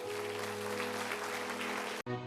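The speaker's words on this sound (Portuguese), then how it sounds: "Vocês podem aplaudir o nome de Jesus." A church congregation at a Quadrangular worship service applauds steadily, a dense, continuous wash of clapping over a low sustained instrumental drone, ending abruptly with a brief cut.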